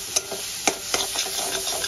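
Steady close sizzling of spinach cooked with prawns in a pan, broken by several sharp scrapes and knocks of a spatula stirring, no voices present.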